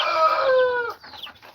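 Young replacement chickens on a farm give one long, loud, drawn-out squawking call followed by a few short, choppy clucks, close by with no talking.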